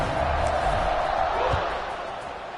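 Home crowd at a college football game, a steady, distant roar of cheering voices filling the stadium, holding level and easing slightly toward the end.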